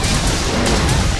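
A dense, loud roar of explosions in Monster Hunter: World Iceborne, blasts rumbling one into the next with no pause for the whole short stretch.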